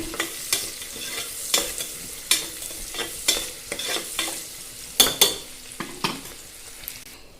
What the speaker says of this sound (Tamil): இது நல்லா எண்ணெயிலே வந்து கொஞ்சம் பொரியட்டும்